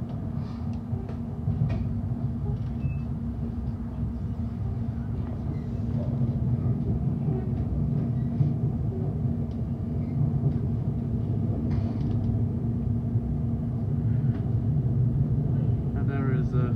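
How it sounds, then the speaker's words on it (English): A British Rail Class 390 electric train, unit 390-126, rolls into London Euston station with a steady low rumble that swells gently as it nears, heard from the platform under ongoing background noise. "And there is 390-126 pulling into Euston."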